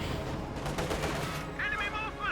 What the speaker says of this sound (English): Another strafing run here from the Soviet Air Force.